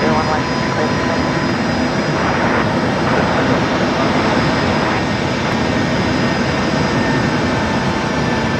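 A loud, continuous jet aircraft engine roars steadily throughout at Brisbane Airport at night, a broad sustained drone with no pauses, with faint talk beneath.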